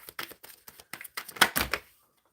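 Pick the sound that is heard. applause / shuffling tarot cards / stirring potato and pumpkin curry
shuffling tarot cards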